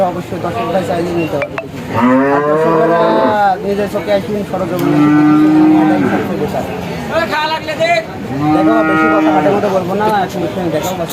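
Friesian cattle at a large cattle market, lowing in several long, loud, drawn-out moos close by, with a steady murmur of crowd voices and chatter running underneath.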